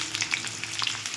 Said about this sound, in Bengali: আলুগুলোও ভেজে নেব, ফোড়নটাও ভাজা হয়ে যাবে